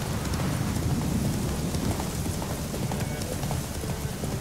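Horse hooves in The Witcher 3 video game, a rapid clip-clop of galloping over a broad, noisy rumble that may be weather, steady throughout with no talking.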